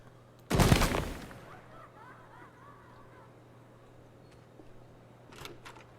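A gun fires in the video game Project Silverfish: one loud, sharp shot with a ringing tail, then quiet ambience and a couple of fainter pops near the end.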